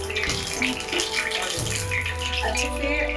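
Tap water runs steadily into a sink or basin while fresh fenugreek leaves are washed in a home kitchen, a close continuous splashing stream with soft handling sounds.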